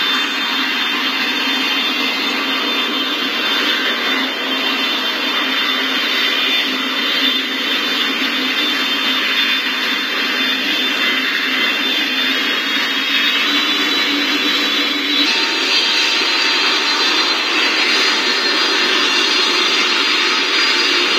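An aircraft jet engine roars steadily and loudly after being switched on, a dense continuous whine and rush that shifts slightly higher partway through, with no voices.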